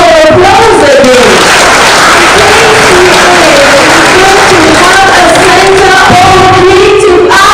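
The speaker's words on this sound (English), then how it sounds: "A round of applause again." Loud audience applause and cheering at a panel discussion on the creative economy, dense clapping with crowd whoops and voices carrying over it throughout.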